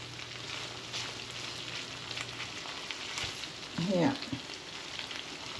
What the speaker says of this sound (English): So I'm just using the spatula to just slice it up a bit.